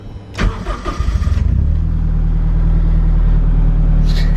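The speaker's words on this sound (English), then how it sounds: "I try to get it start off the button, no throttle." A Honda K20-swapped Mazda RX-7 cranks over briefly and fires up off the button with no throttle, then settles into a steady, loud, close idle with no talking.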